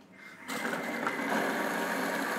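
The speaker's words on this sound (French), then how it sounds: "Et là, on va le mixer, c'est ça? Oui, pour avoir une purée." A blender starts after a brief moment of quiet and runs steadily, blending vegetables into a smooth purée. The motor whirs close and loud with a dense, even churning that holds without a break, and no one speaks over it.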